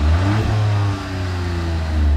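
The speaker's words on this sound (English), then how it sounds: "Apparently this exhaust note can only be heard at low revs." A Hyundai i20 N Line revs on the road, its mid-pitched engine and exhaust note rising steadily and close by, with no talking over it.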